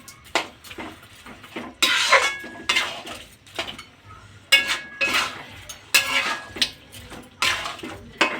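Carrot halwa with khoya stirred in a pan, a rhythmic run of metal spoon scrapes and clinks against the pan, close and repeated about every half second.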